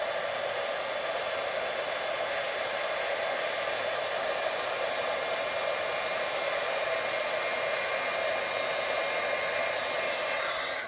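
An embossing heat tool blows a loud, steady, close hiss for about eleven seconds as it melts gold embossing powder on a stamped card. No one speaks over it.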